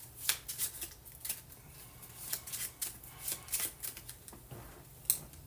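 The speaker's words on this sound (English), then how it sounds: "I'm just going to shuffle these up." A small stack of item cards for a tabletop game is shuffled by hand, producing a quick series of crisp riffling slaps and flicks, close up, without talk.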